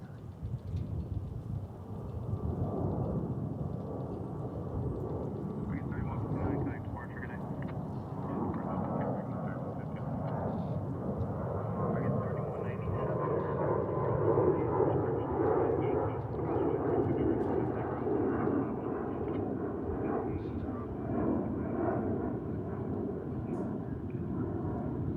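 Airliners at DFW International Airport rumble steadily for the whole stretch, a broad continuous roar of jet engines with shifting tones as aircraft taxi and pass, with faint voices mixed underneath.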